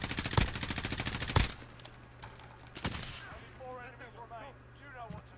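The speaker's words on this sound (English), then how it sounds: "Oh, the team to the left is shooting." Gunfire from an enemy team in Warzone, a rapid loud burst of automatic shots up front followed by scattered single cracks, with a player's voice talking over the later part.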